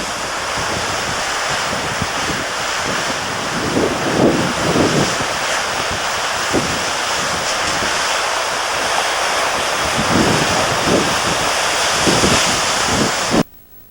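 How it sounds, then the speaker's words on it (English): Ocean waves surge against ancient volcanic rock blowholes on Baja's Pacific coast, a loud continuous roar of surf with repeated bursting splashes and heavy wind buffeting the microphone. "blowholes are created by incoming waves encountering the immovable presence of ancient volcanic rock"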